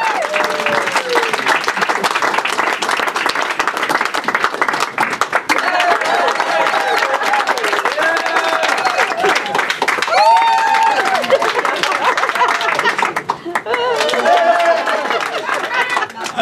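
A comedy club audience welcomes a comedian with sustained, dense applause and cheering that fills the room for over fifteen seconds, with scattered voices and whoops mixed into the clapping.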